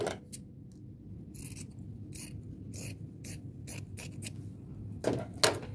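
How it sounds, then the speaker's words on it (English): Scissors snip through old T-shirt fabric along a ruffle in short, quiet bursts of cutting with brief pauses between, close by over a faint low background hum. "So I'm going to cut mine off about right here straight down this ruffle."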